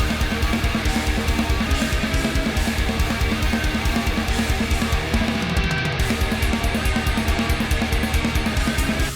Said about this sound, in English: So this is a fantastic black metal guitar tone.